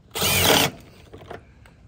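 Power drill driving screws while securing a gutter outlet, heard as one short, loud, close whir of about half a second followed by faint handling noises.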